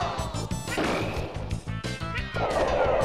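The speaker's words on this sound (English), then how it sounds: "Flutter kick, noggin smashes." Yoshi in Super Smash Bros. delivers flutter kicks and smash attacks, loud rapid thwacks and crashing hits packed over busy game music, with no pause across the few seconds.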